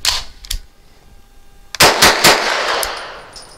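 A Grand Power Stribog SP9 A3 carbine firing Hornady American Gunner 115 grain rounds: one sharp shot, then three loud, fast reports in quick succession, each ringing out into an outdoor range.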